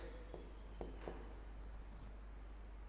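Chalk or marker on a classroom board during a maths lesson, a few short scratchy strokes in quick bursts over a steady low hum, fairly faint with no talking.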